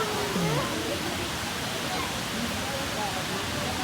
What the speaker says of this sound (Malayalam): 2ാമത്തെ ഷട്ടർ തുറന്നിട്ട് വെള്ളം വന്നുകൊണ്ടിരിക്കുന്നുണ്ട്